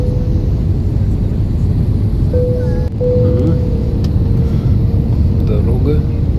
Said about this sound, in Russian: Шасси выпустили, звук был, непосредственно снижение идет.